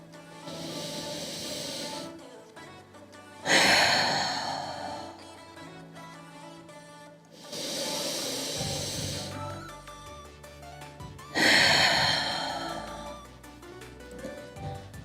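Deep, slow yoga breathing, close and loud: long hissing inhales and exhales alternate in an even rhythm, about four full breaths with quiet pauses between them.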